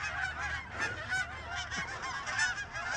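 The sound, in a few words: geese honking in a park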